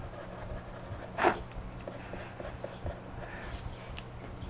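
Soft, dry scratching of a white charcoal pencil drawing on paper, close and quiet, in short irregular strokes with one brief louder scrape near the start.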